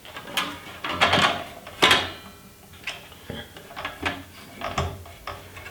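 Wrench clicks and metallic knocks as the arbor bolt is loosened on a Metabo C12RSH2 sliding miter saw, a close, irregular series of ratcheting taps and clunks with someone speaking between them.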